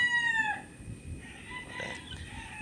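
A white queso gamefowl rooster crows once nearby, a clear harmonic call fading within half a second, followed by quieter clucks and faint background calls.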